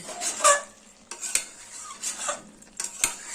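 Metal spoon stirring chillies into simmering vegetables in a pan, a few close scraping and clinking strokes with a light sizzle underneath, alone without talk.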